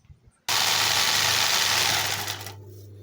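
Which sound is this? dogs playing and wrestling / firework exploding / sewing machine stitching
sewing machine stitching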